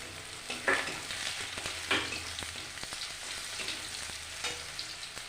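Green chillies added to onions frying in oil for a spicy amudi fish curry, giving a steady moderate sizzle with a few sharper crackles and spoon stirs, close by with no talking.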